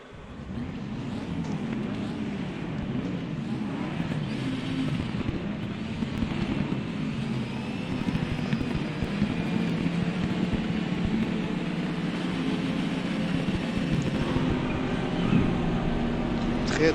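The P4-5 Competizione race car engine drones steadily in the Raceroom game at Monza, a continuous low, rumbling roar that holds for the full length with slight shifts in pitch, with a voice talking over it.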